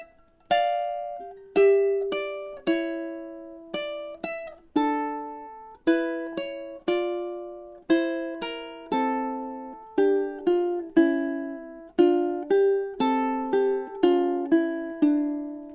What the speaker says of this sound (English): if I took this same Bourrée and I played a little bit of harmony with it, it might sound something like this